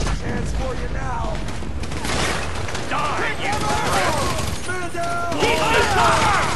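Dense in-game gunfire from a Grand Theft Auto V shootout mission, with rapid bursts and repeated shots filling the scene, while characters shout over the continuous firefight.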